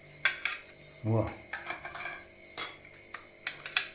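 Homemade desi ghee solids being transferred onto a plate, with several sharp metallic clinks and scrapes of utensil against dish, close and moderately loud, separated by short pauses and one brief exclamation from a woman.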